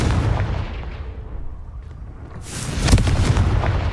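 A Confringo blasting spell in the game Hogwarts Legacy, aimed at boulders: a heavy rumbling blast that fades, then a second loud explosive burst with crackling debris, close and forceful.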